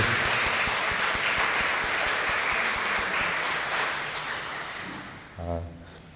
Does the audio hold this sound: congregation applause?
yes